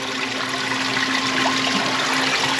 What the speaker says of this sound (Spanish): Todo el agua que está saliendo.